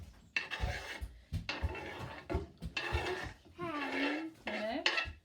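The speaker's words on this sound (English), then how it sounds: "we're going to scrape those onions straight from the chopping board." Clattering and scraping as chopped onions are scraped from a chopping board into a pan, several bursts of knocks and scrapes at close range, with a few short sliding tones in between.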